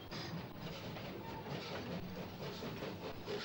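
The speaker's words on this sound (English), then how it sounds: "we see a view from the tunnel looking towards Farringdon as a train from Moorgate passes by" An electric train from Moorgate runs past inside a tunnel toward Farringdon, a steady rumbling roll with faint rhythmic wheel clatter, moderately distant and unaccompanied by voices.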